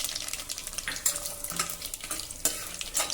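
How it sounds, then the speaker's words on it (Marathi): Cumin, mustard seeds, dried coconut slices and peanuts sizzle in hot oil for a khichdi tempering, a soft continuous fry with occasional spoon scrapes and stirring clinks. "हे तेल गरम झालं की यामध्ये जिरं मोहरी घालूया"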